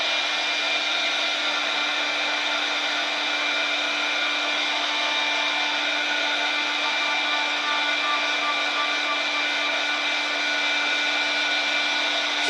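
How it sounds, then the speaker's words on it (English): A heat gun blows steadily while drying a handmade St. Patrick's Day card, a loud, continuous airy whoosh with a faint motor whine that holds unbroken the whole time, with no talking. "Now, I am going to use my heat gun, so it's going to be louder than me."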